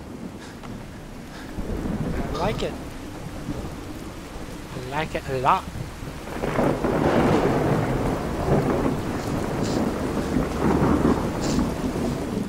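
Heavy thunderstorm with steady rain and rolling thunder from the True Storms weather mod in the Fallout 4 video game, a continuous loud wash with someone talking briefly over it.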